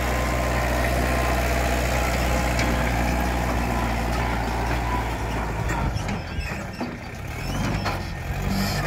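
A truck dumping fill soil on a 300 sqm lot idles loudly and close with a deep, steady rumble, joined by reversing beeps and the rough clatter of the load sliding off near the end.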